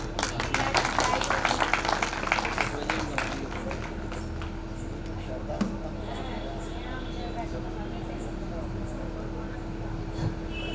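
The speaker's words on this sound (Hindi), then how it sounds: "पहले त्रिपाठी जी के लिए तालियां बजा दें" An audience at a Shri Ram Katha religious gathering in Kargil Park, Jhansi, applauds for Tripathi ji: dense crowd clapping is loudest at the start, then fades into a steady hum while someone talks.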